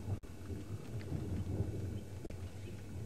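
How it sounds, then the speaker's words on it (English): Low, rolling thunder rumbles steadily through a storm during an African safari drive, a continuous distant boom with no voices over it. "We've got thunder rumbling all around us."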